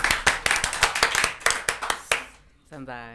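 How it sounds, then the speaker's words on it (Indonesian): A studio audience claps for a guest on an Indonesian talk show, with sparse, uneven hand claps close by for about two seconds. They die away into quiet, then a voice starts speaking. "Tepuk tangannya dulu dong."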